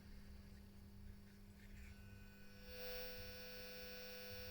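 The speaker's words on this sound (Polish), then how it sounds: "jak zauważyłem, ten odbiornik ma duży poziom szumu własnych" A steady hiss of self-noise from an SI4732 shortwave receiver with its station tuned down, over a low mains hum; the hiss grows brighter and louder about halfway through and continues alone without talk.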